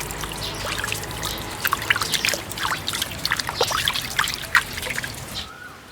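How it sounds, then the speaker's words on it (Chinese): Bok choy is rinsed under running water, a trickling, splashing stream with irregular spattering bursts as the leaves are turned, ending abruptly when the tap shuts off. "洗一下这个上海青，要配点蔬菜"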